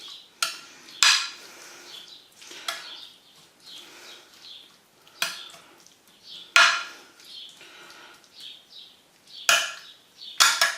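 A spoon scraping and clinking against a pan while stirring a beef and bean hotpot, with intermittent metallic knocks and soft scraping strokes at close range.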